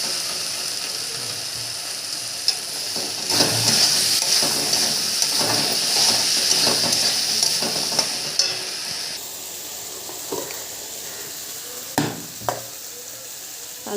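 Tomatoes hitting hot oil in a frying pan with potato and fish for a Bengali curry, a loud broadband sizzle that swells for several seconds amid scraping and clattering of the spatula, then settles into a steadier, quieter fry with occasional sharp clinks.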